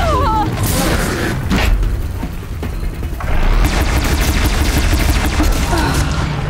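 Gunfire and explosions in the video game Horizon Zero Dawn, a fort battle with booming blasts and rapid crackling shots that pile into a loud, continuous barrage lasting several seconds.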